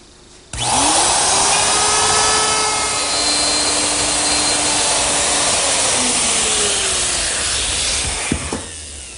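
A router cuts the first of two passes for a T-bolt slot in a wooden router station, a loud steady high whine running continuously for about eight seconds after a sudden start, then winding down.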